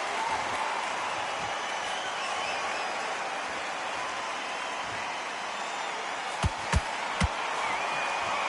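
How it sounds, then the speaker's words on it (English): Steady roar of an arena crowd at a boxing match in the Undisputed video game, a dense continuous wash of cheering and chanting with a few sharp thuds near the end. "Walking into an arena with such noise, people chanting your name."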